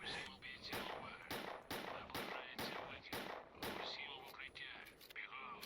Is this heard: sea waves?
no